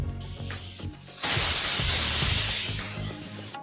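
A pressure cooker on medium flame, cooking chana dal, gives a few mechanical rattles and then bursts into a loud, sustained hissing steam whistle that slowly fades.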